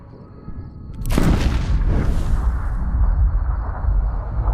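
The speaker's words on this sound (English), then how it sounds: "Firing that sniper rifle." A single sniper rifle shot in Fallout New Vegas, outside New Vegas, lands as a sudden loud boom that rolls into a long, dense, rumbling decay, with no talk.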